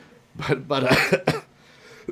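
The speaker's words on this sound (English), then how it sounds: "if you don't like coughing" A person's cough breaks up otherwise quiet studio chatter on a podcast, a few harsh bursts in quick succession, fairly close and moderately loud, followed by a small throat noise.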